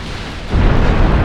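Battleship main guns firing in Ultimate Admiral Dreadnoughts, a single loud, deep boom that swells after a brief lead-in and rumbles on.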